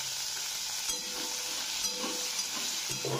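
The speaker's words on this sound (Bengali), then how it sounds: "গোটা জিরে ফোড়ন দিয়ে দিলাম" Whole cumin seeds tempered in hot oil give off a continuous close sizzle with faint crackling and a few soft stirring scrapes, steady and unbroken, with no speech.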